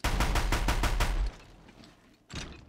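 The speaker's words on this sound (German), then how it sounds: "Das ist ein Maschinengewehr. Ein großes." A large machine gun in Horizon Zero Dawn fires a rapid, loud burst of repeated shots for about a second, then falls quiet before another heavy thump.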